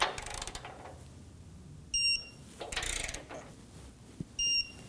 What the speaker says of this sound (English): Go ahead and get the nut side torqued down.